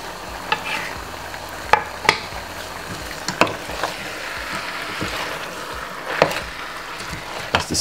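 Spring onion frying over a very low stove flame for Jamaican stew chicken, a gentle sizzle under repeated spoon taps and knocks against the pot, close by, with no speech.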